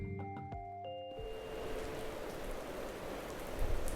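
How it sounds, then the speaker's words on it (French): Heavy rain pours steadily and loudly for most of the span, a dense hiss of drops striking surfaces after a brief quieter opening with a few faint tonal rings. "Il se trouve qu'aujourd'hui, il pleut des cordes."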